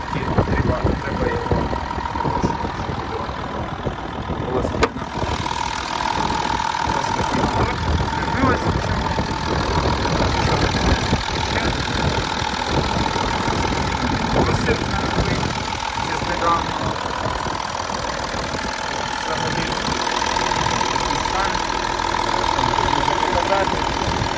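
A 2008 Volkswagen Touareg with the 3.0 TDI diesel engine idles steadily and evenly throughout, a close, continuous mid-low rumble with faint diesel clatter, while voices talk intermittently over it.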